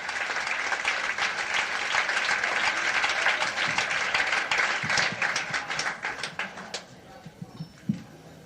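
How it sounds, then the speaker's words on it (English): Comedy club audience applause, loud dense clapping and cheering that holds steady for several seconds, then thins into scattered individual claps and fades. "How about a big round of applause, ladies and gentlemen"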